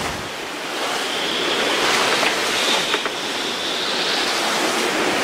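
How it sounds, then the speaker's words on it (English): Rapid waves crash and surge around a sailing boat in gale winds, a steady loud wash of surf and gusting wind noise with no talking. "This way waves are rapid."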